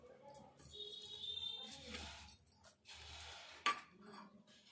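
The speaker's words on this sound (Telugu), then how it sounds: "కందిపప్పు పోసుకొని ఇందులో సుక్కకూర కూడా వేసుకోవాలి" Toor dal and chukka kura greens are added to a cooking pot with a few soft clinks and scrapes of utensils against metal, faint and scattered over quiet kitchen background noise.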